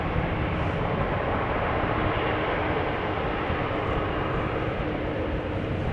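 A steady, broad jet engine roar holds constant throughout, a loud Airbus A321neo airliner lined up on the runway at Amsterdam Schiphol Airport, idling or spooling, with no voices.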